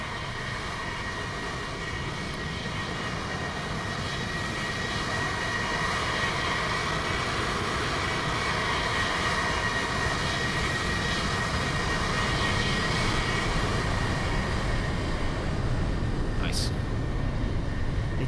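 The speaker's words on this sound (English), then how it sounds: "So this one is meant to be a flyby" Continuous jet aircraft engine roar from an airliner flyby in the X-Plane 11 flight simulator, a broad steady rush that swells slightly toward the end, with no talk over it.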